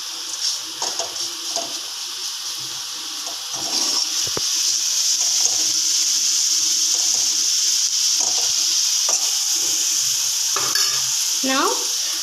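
Bitter gourd slices frying in hot oil for a crispy snack, a steady loud sizzle running the whole time with intermittent stirring scrapes and clinks, no voices.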